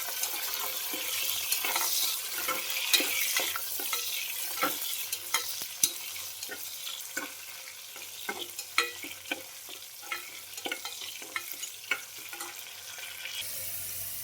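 Onions frying in oil with mustard seeds and cumin for a fenugreek masala gravy, a steady soft sizzle with scattered crackles and light stirring clicks throughout, fairly close, no talking.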